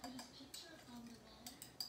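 Mayonnaise, horseradish and lemon are stirred together in a small bowl, giving soft repeated scraping and light clinks of a utensil against the bowl, faint and close.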